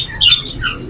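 A blue mung parrot at the Multan Sunday bird market gives a short, sharp squawk, followed by a second fainter call, heard close and without talk.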